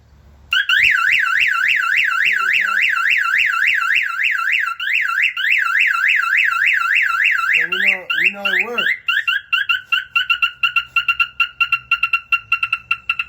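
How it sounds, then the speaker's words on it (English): A Jeep CJ7 alarm wails loudly nearby, triggered by reconnecting the battery, cycling through rising and falling siren tones, then switches to rapid warbles and sharp repeated chirps. "It's going to make the alarm go off."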